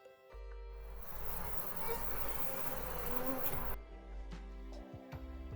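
A gnat buzzes in a steady, dense whine for about three seconds, fairly close, then cuts off, leaving faint low rumbles and a few soft knocks.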